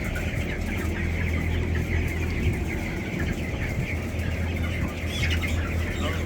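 Broiler chickens in a farm shed cluck and call continuously, many birds overlapping into a busy, close flock chatter that stays at an even level throughout.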